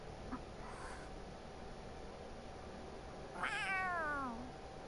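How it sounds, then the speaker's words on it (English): A cat in the video game Tales of Arise gives a faint short call early, then a clear, drawn-out falling meow near the end over a quiet background hum. "A cat? Where'd it come from?"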